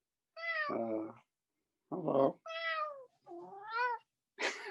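A cat meows repeatedly and insistently, five distinct close cries separated by short pauses, with one brief spoken greeting among them.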